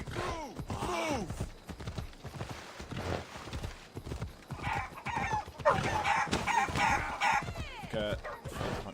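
Chickens cluck and squawk in Assassin's Creed Odyssey, mixed with horse hoofbeats while people talk over them throughout.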